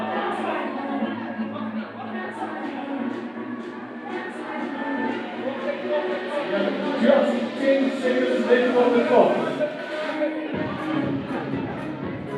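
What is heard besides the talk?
crowd shouting for competitors at fitness event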